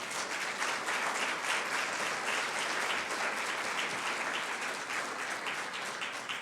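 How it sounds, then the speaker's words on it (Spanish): A church congregation claps steadily throughout, a dense, sustained wash of applause filling the sanctuary with no voices over it. "¿Le pueden dar un aplauso al Señor,"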